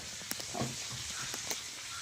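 Pomfret fish fries in a pan with a steady, soft, even sizzle and a few faint crackles and pops throughout.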